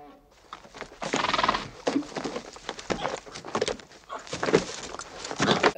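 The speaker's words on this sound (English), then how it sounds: "That horse just doesn't want to be rode," Horses whinny and hooves clatter in a 1958 Western film scene, a bucking horse repeatedly throwing its rider, with bursts of neighing and scuffling over busy action noise.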